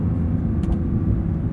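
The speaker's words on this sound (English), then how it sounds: "And just listen to that flat six." The flat-six engine of a 2023 Porsche 911 GT3 with a manual gearbox rumbles steadily and low from inside the cabin, a brief, even drone with no revving and no talking.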